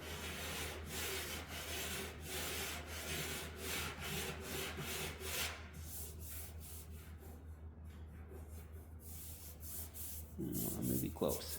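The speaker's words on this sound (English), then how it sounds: "You just keep on rubbing it in the areas where it's high and cut that" Sandpaper rubs back and forth over car clearcoat to cut it down, a quiet rhythmic rasping of regular strokes close to the microphone, with a brief voice at the end.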